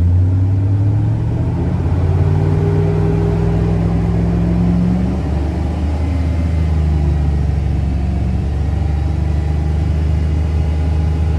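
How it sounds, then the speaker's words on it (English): A 2002 Chevrolet Silverado 5.3L V8 is revved up and held at a steady 3000 RPM, giving a loud, continuous engine drone with a rising pitch early on, heard close with no talking. "So now I'm going to raise the engine RPM to 3000 and hold it there for 30"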